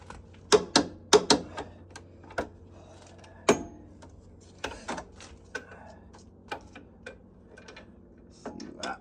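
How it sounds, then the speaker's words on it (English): A torque wrench clicks sharply several times while Jeep JKU rear control arm bolts are tightened to specification, the crisp snaps coming in short clusters with pauses and faint shop noise between them. "we're just going to torque this side"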